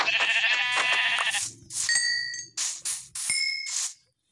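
Minecraft sheep bleating in several short bursts, mixed with bright metallic hit dings and clanks as the animals are struck, loud and close, with brief gaps between the sounds.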